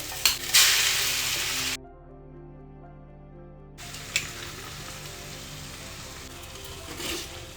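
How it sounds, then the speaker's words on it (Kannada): Three eggs frying with leftover chapati pieces in a pan, a steady close sizzle with a brief gap midway and a few scrapes of stirring. "ಇನ್ನು ಚೂರು ಫ್ರೈ ಆಗಲಿ ಆದಮೇಲೆ ಒಂದ್ಸರಿ ಮಿಕ್ಸ್ ಮಾಡಿಕೊಟ್ರೆ ಸಾಕು"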